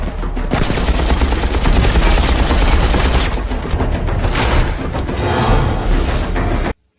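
Dense, loud gunfire from an X-Men Origins film action scene, rapid continuous bursts layered with booms, cutting off abruptly to silence just before the end.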